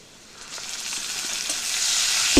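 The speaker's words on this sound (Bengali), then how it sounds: "কেটে রাখা পেঁয়াজ কুচো দিয়ে দিলাম, ভেজে নেব।" Chopped onion hits a hot pan and fries, the sizzle rising quickly into a loud, dense, continuous hiss over a couple of seconds.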